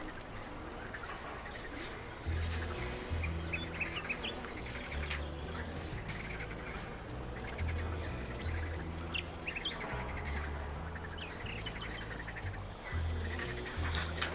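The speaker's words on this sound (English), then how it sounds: "It's all the tropical birds." Tropical bird calls and chirps from a video game jungle soundscape, layered twittering and insect-like trills running continuously over a low droning background with a steady rhythmic bass pattern.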